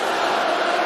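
An arena crowd at a Bern versus Genève-Servette ice hockey game roars and cheers steadily for the home goal scorer, a dense, continuous wall of noise with no breaks.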